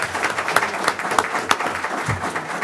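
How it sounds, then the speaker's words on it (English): A short burst of applause from an audience at a municipal forum, made up of a scattering of distinct claps. "let's give a round of applause for both of our candidates for a very fine job."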